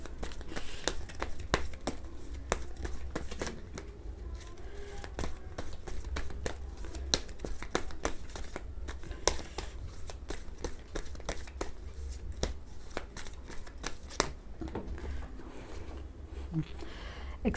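Tarot cards are shuffled by hand in a steady run of crisp riffling and flicking clicks, close and fairly quiet, continuing for the whole stretch.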